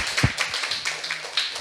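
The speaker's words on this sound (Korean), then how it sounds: "박수 한번 쳐주세요." A church congregation claps at a Sunday afternoon service, a brief scattering of light, uneven claps and taps at moderate volume with no talking over them.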